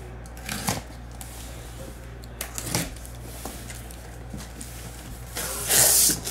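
A baseball card case wrapper being ripped open for a 2024 Bowman Sterling break, giving scattered crinkly tearing bursts and a louder rasping rip near the end over a steady low hum.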